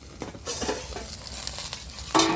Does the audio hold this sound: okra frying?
yes